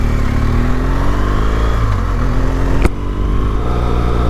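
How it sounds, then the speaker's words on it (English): BMW GS motorcycle with a boxer engine running steadily while touring Welsh roads, a loud continuous engine drone with a rising pitch and a brief sharp click near the end, no talk. "the Boxer engine just runs like clockwork on here."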